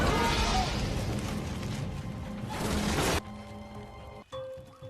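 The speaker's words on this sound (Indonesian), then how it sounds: "meledakkan tabung gas" Gas canister blown up in a spy action film: a loud, sustained broadband roar and rumble for about three seconds, cutting off abruptly into quieter scattered debris clatter and a short low thump near the end.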